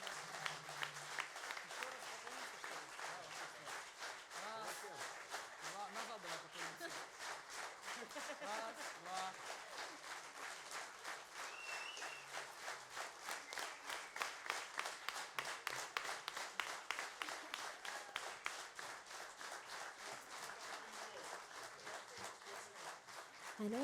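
Sustained applause from a concert audience after a show band's tribute set: dense, steady clapping that builds slightly toward the end and carries on throughout.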